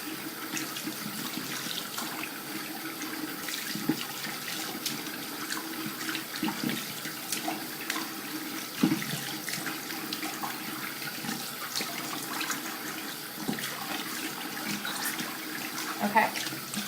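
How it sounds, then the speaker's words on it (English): Warm water runs steadily from a tap for a face rinse, a continuous mid-level splashing flow with occasional louder spatters from hands in the stream, no talking over it. "So I'm just going to use the warm water now"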